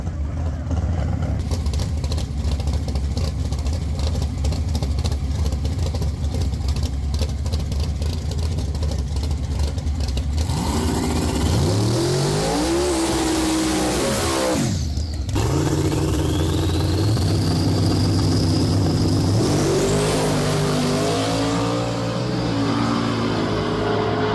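Drag racing cars at a dig-or-die event, a white Mustang and a Camaro, rumble loudly at the line before one launches with a sharp rising engine roar. A steady crowd and engine din runs throughout.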